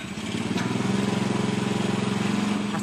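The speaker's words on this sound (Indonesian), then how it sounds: "ia gunakan untuk mengoperasikan genset yang menghasilkan listrik" A small generator set runs on biogas stored in bags, chugging with a steady, rapid pulsing engine beat at close range. The loudness holds even after a short rise at the start, with no talking.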